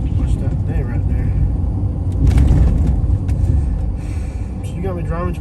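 Car driving along a rural backwoods road in North Carolina, a steady low road and engine rumble running throughout, with a voice talking over it near the end.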